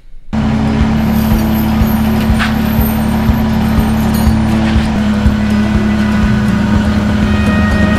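A Kubota BX2380 compact tractor's engine runs steadily and close up while the tractor backs up inside a garage before tire chains go on. The motor holds a loud, even drone throughout.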